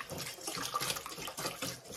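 Warm water pours steadily into a cup while making a dinner for a family of five, a close, continuous splashing stream lasting about two seconds with no talk.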